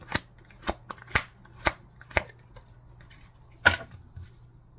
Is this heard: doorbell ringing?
no